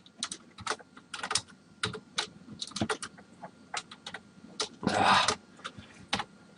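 Rapid keystrokes clatter on a computer keyboard in irregular bursts with short pauses, close and crisp, including one longer, denser flurry near the end.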